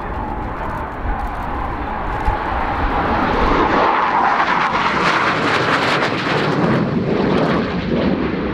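A Romanian MiG-21 LanceR fighter jet flies a display, its engine a loud, continuous roar that swells and rumbles across the whole stretch, heard alone outdoors.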